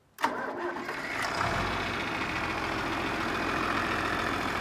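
A John Deere 4320 tractor engine cranks with a sharp click, catches and starts, then settles into a steady close idle rumble.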